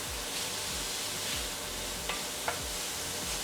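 Wild turkey meat and ramps sizzling in a pan while being stirred, a soft steady crackle with a couple of sharp utensil clicks against the pan, fairly faint.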